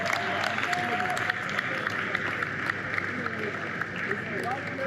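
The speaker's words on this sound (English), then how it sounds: "just give yourself a round of applause." Audience applause and crowd noise fill a forex trading expo panel session, a steady dense wash of clapping at moderate distance with voices mixed in throughout.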